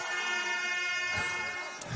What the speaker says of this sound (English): the air horns are going off